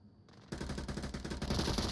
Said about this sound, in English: Squirrel takes a hit after all those rounds off of Suplex as well